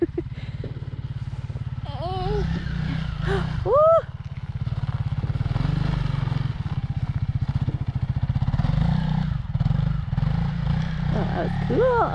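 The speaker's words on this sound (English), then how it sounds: "Let's go out to the end of the driveway and watch Daddy drive his bike." A Honda CRF300L motorcycle rides down a driveway, its engine a steady low drone that holds throughout at moderate distance, while a child and an adult talk and exclaim excitedly over it.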